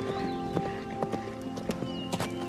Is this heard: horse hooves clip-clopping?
yes